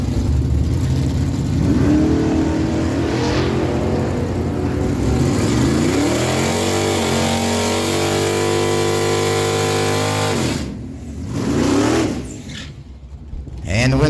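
A 1987 Chevy S10 and a Camaro launch down a drag strip, loud engines revving and climbing through gears nearby before the roar cuts off and fades, with an announcer talking over it.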